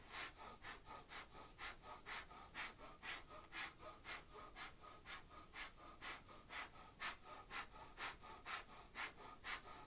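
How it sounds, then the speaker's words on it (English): Breath of fire, a rapid rhythmic yoga breathing practice done as part of a kriya, steady close forceful exhales about two per second for the whole stretch, alone without talk. "So just find your place to start and begin breath of fire."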